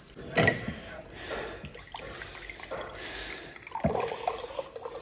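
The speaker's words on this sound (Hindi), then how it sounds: "देखो पानी पी लिया नीचे" A pet laps water from a container at home, with wet dripping and splashing sounds in uneven bursts, close to the microphone over a steady background hiss.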